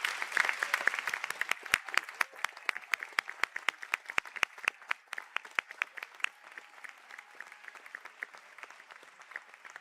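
An audience at a graduate conferring ceremony gives a round of applause, with crisp, distinct claps, thinning from dense clapping into sparser individual claps as it goes on.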